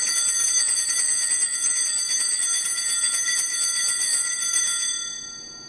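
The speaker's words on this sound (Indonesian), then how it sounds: "Itu bunyi lonceng." A chapel bell rings steadily, its bright, shimmering tone sustained for about five seconds before fading out, heard alone with no voices.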